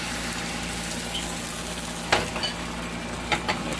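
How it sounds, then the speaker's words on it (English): Eggs fry in a pan with a continuous, close crackling sizzle, broken by a few brief clinks and scrapes of stirring near the end. "let's start frying the eggs too"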